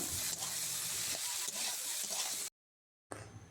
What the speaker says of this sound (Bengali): এইভাবে নাড়াচাড়া করতে করতে রেডি হয়ে গেল এই 3 মেশালি সবজির তরকারি